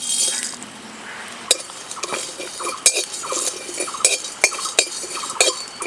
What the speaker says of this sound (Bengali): অল্প আঁচে নাড়াচাড়া করে ভেজে নেব।